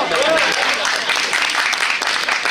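Studio audience applauding at a French television special, a dense wash of clapping that holds steady through the clip.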